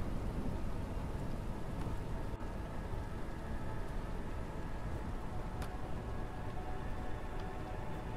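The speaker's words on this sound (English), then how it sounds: "there's a difference in the sound that the rain was making." Steady rain from a thunderstorm in the video game The Isle, a constant soft hiss and patter with low rumbling beneath, fairly faint and unbroken, with an occasional brief crackle.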